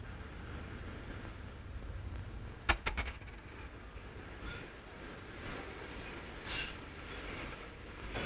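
A train rumbles along steadily, with a sharp metallic clatter of wheels partway through and faint squeals over the low running noise.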